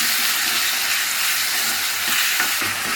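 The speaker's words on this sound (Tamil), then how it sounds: "இப்போ பாருங்கள், நல்லா வதக்கியாச்சு. தக்காளி நல்லா வதங்குது." Salted tomatoes sauté in a pan for a potato masala gravy, giving a loud, continuous close sizzle with faint stirring scrapes and no talk.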